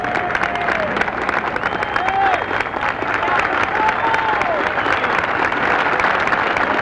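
A golf crowd at the 18th hole of a US Open final round cheers and applauds from a distance, a steady roar of clapping and voices filling the whole stretch.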